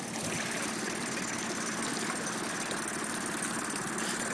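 A Tohatsu 9.8 outboard boat motor runs slowly, a steady low droning hum with constant water wash, heard alone without talk.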